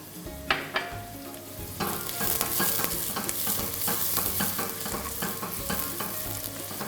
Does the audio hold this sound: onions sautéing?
yes